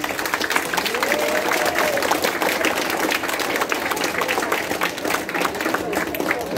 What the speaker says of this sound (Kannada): ನೀವೇ ಚಪ್ಪಾಳೆ ತಟ್ಟಬೇಕಾಗಿಲ್ಲ